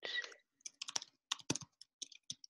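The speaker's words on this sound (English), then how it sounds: "I can hear someone typing." Quiet, irregular keystrokes from someone typing on a computer keyboard, clustered clicks with short gaps, heard close and alone after a brief faint sound at the start.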